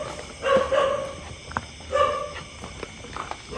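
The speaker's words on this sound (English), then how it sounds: "Dogs are just barking." Dogs bark outdoors in two short clustered bursts about a second and a half apart, at moderate distance over a steady hiss of background noise, with no talking.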